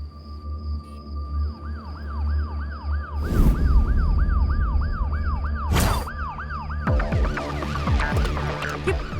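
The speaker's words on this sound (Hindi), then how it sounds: "पुलिस का सायरन।" A police siren wails in a steady up-and-down rhythm, loud and close, while two sharp bursts cut across it and a steady high electronic tone hums beneath.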